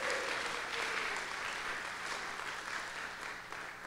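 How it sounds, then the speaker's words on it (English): Audience clapping at a lecture celebrating Superman's 80th anniversary, a steady dense round of applause from a crowd that holds for several seconds and tapers slightly toward the end. "you can clap"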